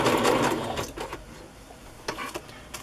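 A sewing machine stitches paper ephemera onto a backing for a scrapbook project. It gives a quiet whirring run at first, then short intermittent bursts of stitching, heard close up with no voices.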